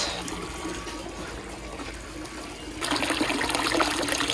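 Water flowing and trickling through a homemade solar pool heater, a soft steady flow that grows into a louder, brighter splashing stream partway through.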